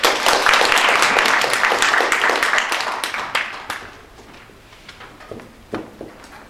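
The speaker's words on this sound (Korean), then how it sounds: "큰 박수 받아주시기 바랍니다." Audience applause greets a speaker at a conference, loud dense clapping that thins out midway and fades into a few scattered claps in a quieter room.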